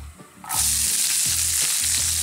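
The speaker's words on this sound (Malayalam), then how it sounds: "ഈ സവാള വഴറ്റാനുള്ളതും കൂടി ഇട്ട് കൊടുക്കാം" Onions hit a hot pan with cumin and spices, a sudden loud sizzle bursting in after a brief quiet moment and then holding as a dense, steady hiss up close.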